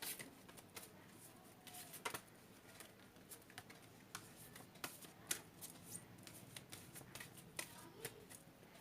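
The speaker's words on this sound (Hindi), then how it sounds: "कार्ड्स शफल कर लेती हूँ" Oracle cards being shuffled by hand during a weekly reading: a soft, irregular patter of crisp card flicks and riffles, close and fairly quiet, with no talking.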